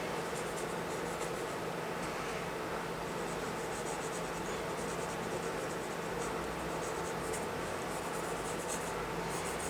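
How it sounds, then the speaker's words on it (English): A pencil sketches Venom's head on paper in a steady, close scratching scrawl that runs continuously with no talking. "we'll draw his head kind of the same way as Spidey's is here"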